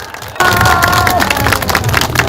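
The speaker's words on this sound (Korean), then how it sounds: "큰 박수 주십시오" Loud crowd applause and cheering erupts at an outdoor press conference and commemorative gathering in Dalseong, welcoming an elderly guest to the stage; dense clapping with shouts begins abruptly and carries on to the end.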